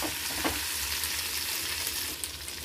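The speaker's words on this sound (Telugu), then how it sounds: "ఒకసారి వేయించుకుందాము." Oil frying steadily in a pan for cabbage curry, a dense continuous sizzle with faint stirring scrapes and no voices.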